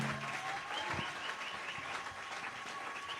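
A church congregation at a special Sunday service applauds, a soft, somewhat distant, continuous patter of many hands with a faint low hum beneath it.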